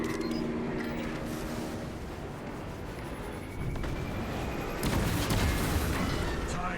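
Titan war machine firing its cannons in the Space Marine 2 video game, a steady dense barrage of booming blasts and rumbling explosions, swelling louder toward the end amid battle noise.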